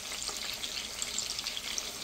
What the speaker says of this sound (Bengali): আস্তে আস্তে ভেজে নেব।